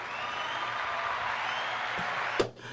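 Steady hand-clap applause from a small group, lasting nearly three seconds at an even, fairly loud level, with a sharp slam-like hit near the end.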